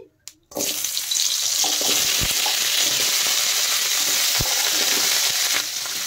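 Vegetables dropped into a little hot oil in a wok for a Bengali pachon, a sudden loud burst of sizzling after a brief clatter, then a steady, close, continuous fry with a couple of soft knocks.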